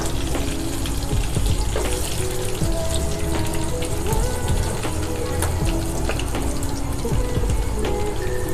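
Garlic sizzles and crackles steadily in hot oil for a dal tadka in a home kitchen, a dense, even spatter with small pops, loud and close the whole time.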